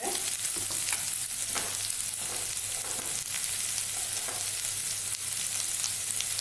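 Sliced onions and green chillies sauté in a pan over a medium flame, giving a continuous, even sizzle close up with light stirring scrapes and no talking.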